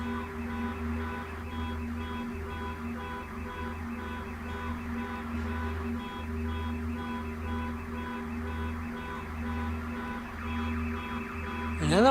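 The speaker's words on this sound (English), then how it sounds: "Another car alarm." A car alarm sounds outdoors with a steady, repeating electronic tone pattern over a constant low hum, cycling without a break for the whole stretch and rising in level right at the end.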